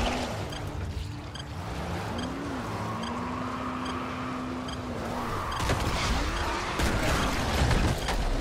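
Car engine driving in the zombie survival video game Dying Light: The Following, a steady low hum with shifting pitch throughout, swelling louder near the end, mixed with game ambience and no talk.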